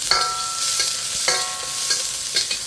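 Thai fried rice sizzles steadily in a hot pan, with a few sharp metallic scrapes and clanks as it is stirred and tossed.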